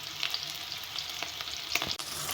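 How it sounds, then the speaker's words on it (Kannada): Green chilies and onion fry in a hot pan with a steady crackling sizzle, punctuated by a few sharper spits and light stirring scrapes, close and continuous without any talking. "ಹಸಿಮೆಣಸಿನ್ಕಾಯಿ ಈರುಳ್ಳಿ ಹಾಕಿ ಫ್ರೈ ಮಾಡ್ತಾ ಇದ್ದೀನಿ"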